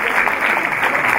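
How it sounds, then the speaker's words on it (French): Audience applause at a nature conference opening session in Burgundy, a dense, even wash of clapping from a seated crowd, steady and fairly loud throughout. "Vous pouvez l'applaudir"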